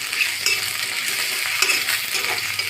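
Potatoes with crushed ginger, turmeric and chilli powder fry in a pan, a loud continuous sizzle marked by repeated scraping stirs, close and without speech.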